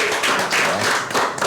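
Studio audience applause at an Indonesian sports talk show, steady dense clapping at moderate level throughout, no voices.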